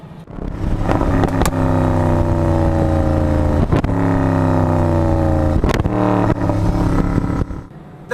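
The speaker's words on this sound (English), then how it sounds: "when you release the throttle after accelerating, it emits these awesome crackles just like the Jag F-Type" A Mercedes SLS AMG revs hard nearby, its exhaust rising in pitch through strong gear pulls, with sharp cracks and pops between shifts and on lifting off.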